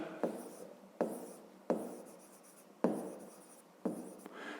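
A pen scratches on paper in short strokes, each starting with a light tap, as someone writes a math exercise by hand; quiet and close, with no talk.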